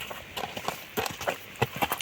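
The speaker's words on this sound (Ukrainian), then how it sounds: "Оце є його мама, кобила Кармеліта." Horse hooves from a mare clip-clop in an uneven series of sharp knocks, close by and fairly clear, with no talking.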